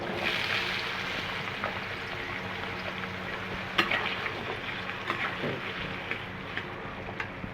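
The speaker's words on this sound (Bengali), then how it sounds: "আলুগুলো এখন আমি লাল লাল করে ভেজে নেব" Potato pieces fry in oil in a pan, a soft steady sizzle close by with occasional stirring knocks, no voices.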